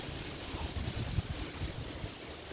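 Strong wind gusting outdoors after Post Tropical Storm Lee, a dense, steady roar of blustery noise buffeting the microphone with low thumps, loud and continuous with no voices.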